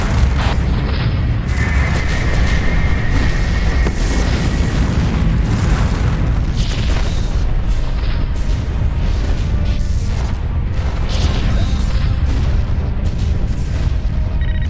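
Hades capital ship in Freespace blowing apart: a continuous loud roar of heavy booms and blasts with crackling bursts layered throughout, unbroken from start to finish.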